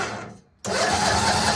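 A small engine on a DIY mini jeep turns over on its first start attempt, a loud, steady churning whir that bursts in after a brief quiet gap and runs continuously.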